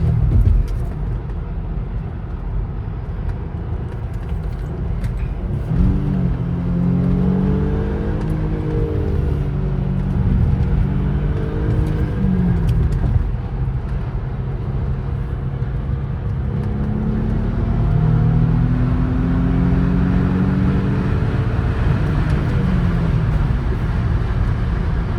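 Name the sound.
Audi car accelerating hard on highway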